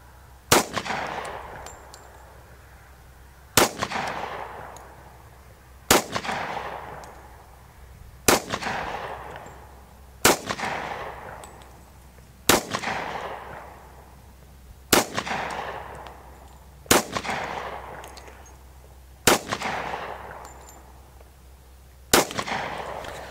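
A Smith & Wesson M&P 45 pistol fires ten loud, sharp shots at a target, evenly spaced about two seconds apart, each followed by a short ringing decay.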